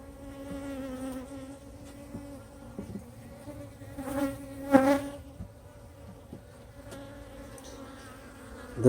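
Honeybees buzz steadily around a hive frame during a swarm-prone colony inspection, a low continuous drone with a couple of louder passes as bees fly close.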